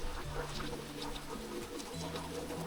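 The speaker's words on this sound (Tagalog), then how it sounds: "It's raining." Rain falling outside makes a constant, even hiss with a soft patter, while pigeons coo faintly underneath.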